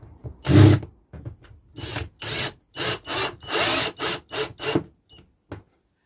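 Countersinking screw holes in a small piece of wood with a hand tool, heard as a series of short, close scraping and grinding bursts with brief pauses between them and no talking.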